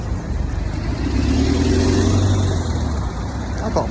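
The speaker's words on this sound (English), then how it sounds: "There's the other bus behind." A London bus drives past behind another bus on a street: a loud, close engine drone that swells through the middle and then eases, with steady road noise throughout.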